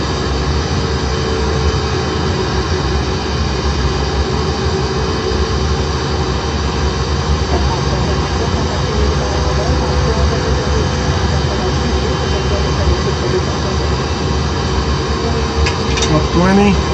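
Steady, loud Boeing 747 jet engine roar from the FS9 flight simulator during lineup with the runway, a broad continuous drone with a faint tonal whine holding for the whole stretch.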